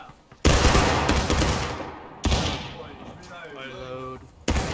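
Company rifle volley fired on command in the War of Rights Civil War battle game, sharp loud crashing blasts, one at about half a second, another near two seconds and a third at the end, with shouted orders between.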